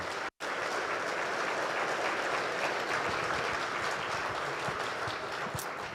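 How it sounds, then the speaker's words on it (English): After a panel at a real estate investment conference, an audience gives a dense, even round of applause. It holds steady and fairly distant, with a brief dropout near the start and no talking. "So let's give them a big round of applause."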